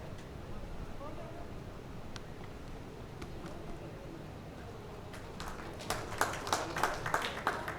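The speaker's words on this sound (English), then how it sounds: "a round of applause" Audience at the Global Maritime India Summit breaks into applause: a quiet room at first, then scattered claps that thicken into a moderate round of clapping toward the end.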